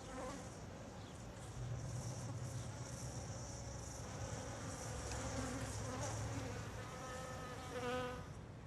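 Bees swarming around hives in an abandoned, rusting industrial site, a faint steady buzzing drone that carries on throughout with no voices.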